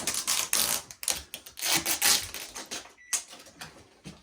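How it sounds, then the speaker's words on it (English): Tape being pulled and pressed onto a cardboard target for a homemade target stand, a run of loud crackling rips and taps close by, broken by a brief pause. "So you can finish taping that off"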